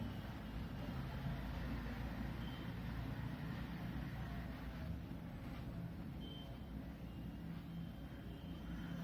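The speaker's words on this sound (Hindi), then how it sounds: "अभी भी ये सर्कुलेशन हो रहा है यहाँ पे।" A fully automatic washing machine keeps circulating near the end of its wash cycle with a low, steady churning hum. It is quiet and continuous, with faint high tones now and then.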